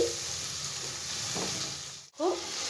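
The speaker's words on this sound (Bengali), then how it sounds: "ভালো করে মশলাটা ভেজে নেব যতক্ষণ না মশলাটা থেকে তেল ছাড়ছে ততক্ষণ আমি ভেজে নেব" Spice paste with Kashmiri chilli powder fries in oil over a low flame, a steady close sizzle with a brief break and a couple of stirring scrapes.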